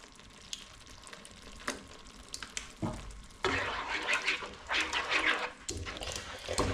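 Yogurt being stirred into a sizzling pan of Kashmiri dum aloo, a spicy stuffed potato curry, giving a soft steady frying hiss with scraping and stirring clatter that grows louder partway through, close and moderately quiet.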